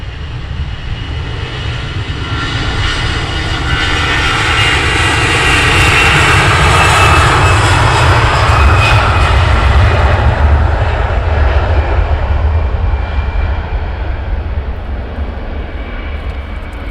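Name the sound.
Wizzair delivery aircraft arriving at Luton Airport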